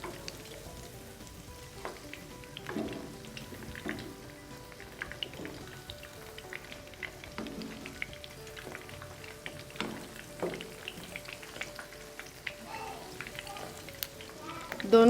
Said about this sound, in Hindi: कबाब को दोनों साइड से अच्छी तरह फ्राई